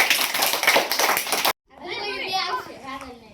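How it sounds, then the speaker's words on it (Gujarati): Children clap their hands in a classroom tuition session, a dense burst of claps mixed with kids' voices that cuts off abruptly, followed by someone speaking. "તાળીઓ પાડો ભાઈ"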